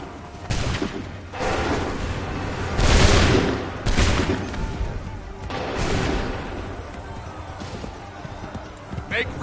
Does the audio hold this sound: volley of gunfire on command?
yes